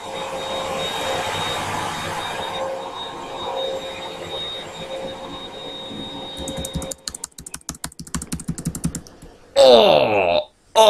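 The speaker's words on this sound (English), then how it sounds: "that's my mum downstairs. She's hoovering." A vacuum cleaner runs downstairs in a house, a steady muffled drone for about seven seconds before breaking into choppy, uneven bursts and a louder final rush.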